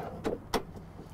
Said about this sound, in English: So to open the door